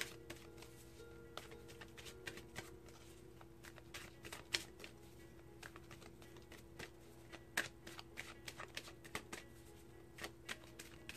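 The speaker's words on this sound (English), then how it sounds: "let's pull an oracle card. This is the Gateway Cards by Denise Lynn" Gateway oracle cards by Denise Lynn are shuffled by hand, producing soft, repeated riffling taps and flicks in an irregular rhythm, quiet and close, with no voices.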